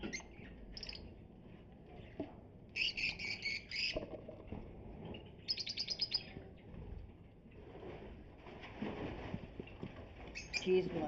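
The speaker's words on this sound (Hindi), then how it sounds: "ये कलर लबर्ड के पेयर हैं माशाल्लाह, ब्रीडर पेयर।" Colour lovebird breeder pairs in a cage give bursts of shrill chirping calls at intervals, over a murmur of background voices and room noise.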